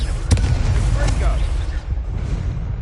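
The Confringo fire spell fires in Hogwarts Legacy with sharp, booming blasts, one early and another about a second later, over a dense game backdrop with voices.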